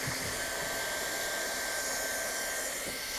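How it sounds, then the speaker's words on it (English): A hot air welding gun blowing while welding TPO roofing flashing gives a steady, even hiss that holds at a constant moderate level for about three seconds, then ends in a brief bump. "I'm gonna finish welding this flashing off."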